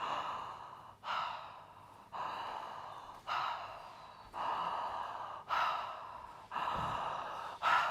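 Repeated breathing with no pauses between breaths, each inhale and exhale flowing straight into the next in a steady rhythm of about seven airy, close breaths with no talk.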